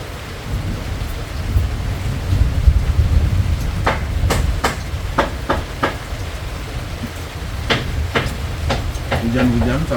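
Rain pours down steadily with low rumbling thunder rolling underneath, and sharp close drips or taps punctuate the downpour at irregular intervals; no one speaks.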